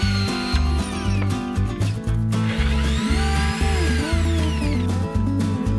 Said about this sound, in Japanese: ドリルで穴開けします。